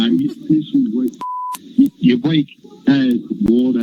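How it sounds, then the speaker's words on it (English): A steady censor beep of about a third of a second cuts into a man's speech at a sports press conference, with talk running before and after it. "we had to beep it out there because he used a pretty strong word"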